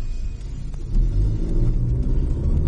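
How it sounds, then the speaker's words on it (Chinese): A Changan CS75 Plus 1.5T SUV with a six-speed automatic pulls away from a standstill, its engine rumbling low and swelling as it accelerates, heard close from inside the car without talk. "CS75 Plus 的起步动力响应更快，动力输出呢也更猛一些"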